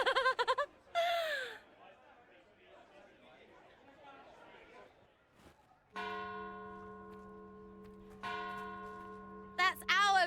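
Bells in the Dragon Age: Inquisition game ring out loudly in two clear, sustained struck peals with long ringing tails, after quieter stretches of people chattering and laughing.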